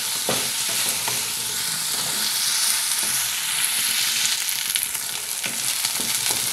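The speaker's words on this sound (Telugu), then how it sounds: "టమాటా ముక్కలు, ఈ 3 వేసి వేయించుకుందాం. ఇవి పచ్చివాసన పోయేంత వరకు వేయించుకుందాం." Tomato and vegetable pieces fry in a pan for multigrain rava upma, giving a steady, loud sizzle with occasional stirring scrapes throughout and no voices.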